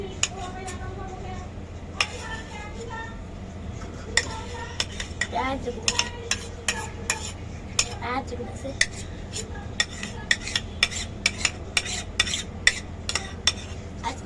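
A spoon scrapes and clinks repeatedly against a bowl while chotpoti is mixed, close irregular metallic taps over a murmur of background voices.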